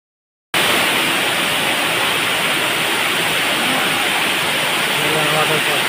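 Loud, steady broadband roar of a waterfall inside Lobo Cave in Jiabong, Samar, Philippines, rushing continuously and close after a brief silent start.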